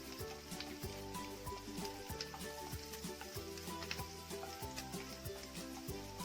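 Ginger and green chillies sautéing in oil, a soft steady sizzle with frequent light stirring clicks, over a quiet background hum and no talking.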